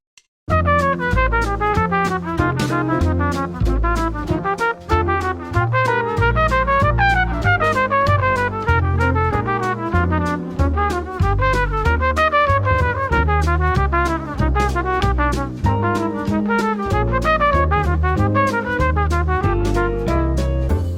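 A continuous run of melodic practice lines with chromatic approach notes plays steadily and loudly, note after note in even rhythm with a bass part underneath.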